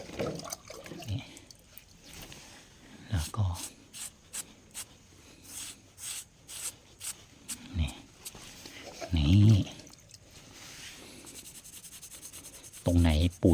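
Hardened residue being scrubbed off a handmade stone-and-tile chair built with leftover bathroom tiles, heard as bursts of rasping, gritty rubbing strokes alongside someone talking intermittently.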